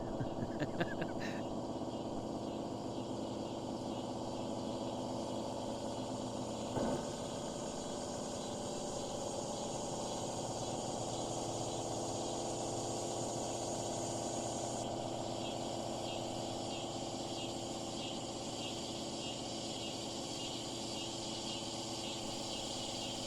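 A boat engine runs near a reed bed, giving a steady, even hum and drone throughout, with voices talking over it.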